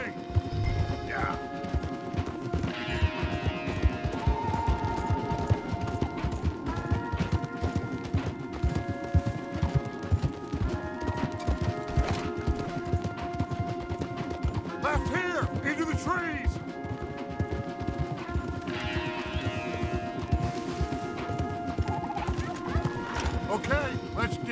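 Horses clip-clop at a gallop through Red Dead Redemption 2 as riders flee hard, with steady rapid hoofbeats, occasional whinnies and a low throbbing hum. Voices talk over the hooves.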